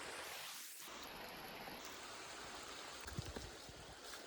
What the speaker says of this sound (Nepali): अहिले पुरा पानी आउन थाल्यो र हामीहरू घरतिर फर्केका